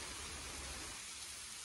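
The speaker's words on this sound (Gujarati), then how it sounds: "જોઈ શકો છો વરસાદ ચાલુ થઈ ગયો છે" Rain starting to fall outdoors in Dahod, heard as a steady, dense hiss of drops that fills the short stretch evenly, with no voices over it.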